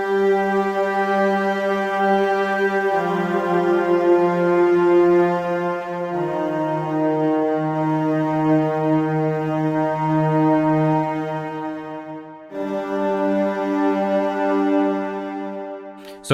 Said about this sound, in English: This is the pad patch we're going to be making.